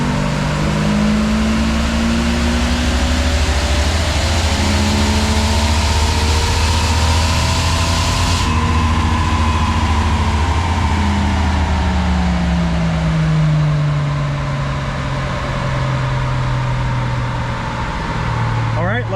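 Jeep Wrangler 4.0 engine held at about 2,500 RPM during a dyno test run after a tune-up, giving a loud, steady drone with slowly shifting pitch that lasts throughout.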